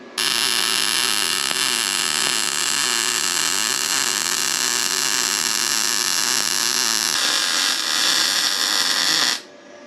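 Steady, loud crackling hiss of an arc welder running an uphill bead, tacking legs onto a DIY folding engine run stand; the continuous buzz holds for about nine seconds before cutting off abruptly.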